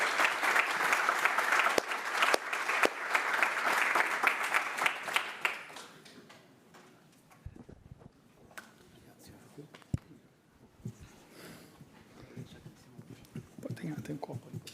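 Applause for Marquinhos at a Brazil national football team press conference, a dense, loud burst of clapping for several seconds that fades into room noise with scattered sounds and talking.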